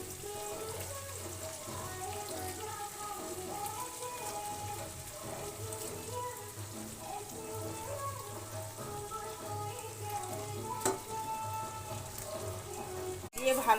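Pre-fried chicken pieces sizzle in a pan of oil-released spice masala for Bengali doi chicken, a steady close crackling hiss throughout with a brief louder clatter near the end, while a voice seems to speak over it.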